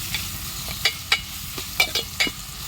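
Chicken being stirred in hot oil in a pan, a constant sizzle broken by about six distinct scraping strokes of a spoon, close and without speech.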